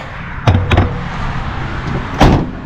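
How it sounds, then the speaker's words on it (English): A square body truck door swings shut with two quick solid thuds close by, followed after a pause by a third, heavier slam; no one speaks. "But door shut good."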